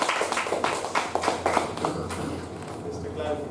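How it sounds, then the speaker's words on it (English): Applause from a meeting audience at a Toastmasters club, with scattered claps in quick bursts that thin out and fade after a couple of seconds, over room murmur. "Let's do a big round of applause."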